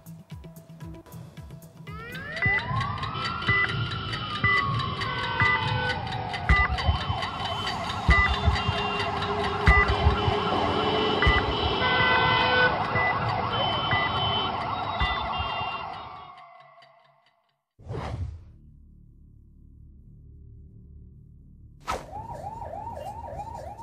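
An ambulance siren wails loudly and continuously in Indian traffic, a rising and falling tone, then cuts off; a short burst follows and the siren starts again at the end.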